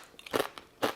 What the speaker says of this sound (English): They have total crunch.